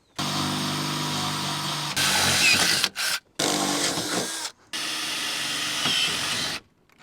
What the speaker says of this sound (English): We're just gonna drill straight through there on either side.